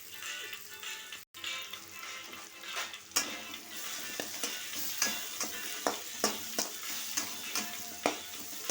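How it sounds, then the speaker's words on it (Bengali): Chopped garlic, ginger, onion and potato are stir-fried in a pan with cumin tempering, giving a steady close sizzle punctuated by regular scraping strokes of a spatula, with no voice over it. "রসুন কুচি আদা কুচি পেঁয়াজ আলু জিরের ফোড়নটা দিয়ে ভালোভাবে এটাকে নাড়াচাড়া করবো"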